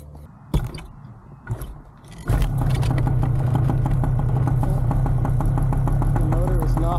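A trike motorcycle engine, not yet warmed up, starts after a couple of brief knocks and then runs steadily and loudly near the microphone, a continuous low rumble lasting to the end.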